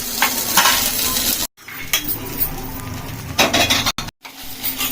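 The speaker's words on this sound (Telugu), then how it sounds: "చట్నీ కోసం అయితే పల్లీలు పచ్చిమిర్చి వేయించేసుకున్నాం" Peanuts and green chillies fry in a pan for chutney, a loud close sizzle broken by stirring scrapes and utensil clatter, with brief cuts of silence.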